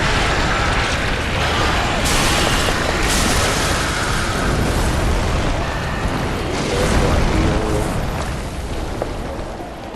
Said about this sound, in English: So we're going to throw the firebomb, we're going to let him flail.